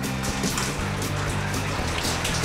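Steady, loud hiss and patter of water spraying onto a roof, with a low mechanical hum underneath throughout.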